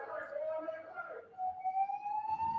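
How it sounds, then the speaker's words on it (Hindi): Ambulance siren passing by outside, a steady rising-and-falling electronic wail with a loudspeaker announcement, moderately distant and partly masked by a voice talking indoors during a classroom lecture. "अनाउंसमेंट के साथ एम्बुलेंस जा रहा है, अनाउंसमेंट के साथ"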